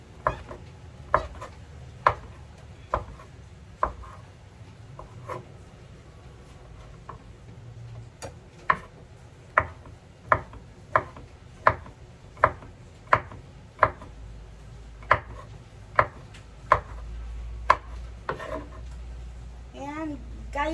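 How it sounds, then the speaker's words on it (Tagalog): Mushrooms being chopped into small pieces on a board, heard as a run of sharp, close, fairly even knife knocks, sparse at first and then quick and regular, over a low background hum. "hiwain po natin ang mushroom ng maliliit"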